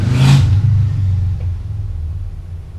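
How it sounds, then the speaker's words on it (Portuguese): A motorcycle roars past close by, a loud low engine rumble that swells briefly and then fades as it moves away, with no talk over it. "Você ouviu essa moto passando?"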